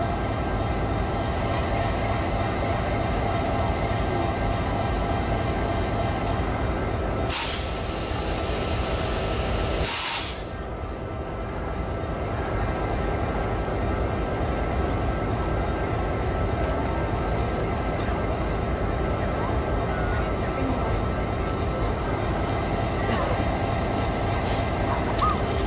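A train rolls past nearby with a steady, loud rumble and rail noise, with a short hissing burst partway through; it may be an Amtrak passenger train or a freight train.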